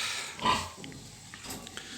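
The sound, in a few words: restless pig grunting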